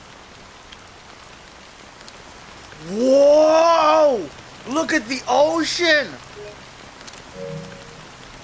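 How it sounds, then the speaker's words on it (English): Steady rain patters on through a scene in the video game Honkai: Star Rail, a soft constant hiss beneath an excited voice and other brief game voices. "how long has this rain been going on for?"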